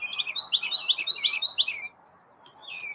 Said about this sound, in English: Holy moly, the birds are loud this morning.